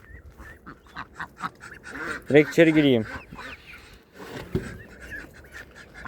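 Ducks quack in a noisy burst midway, with harsh nasal calls over steady background chatter; a person speaks briefly before and after.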